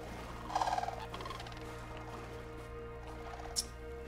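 Birds calling in the video game AER: Memories of Old, a short chirping trill followed later by a brief high chirp, faint over a quiet ambient drone.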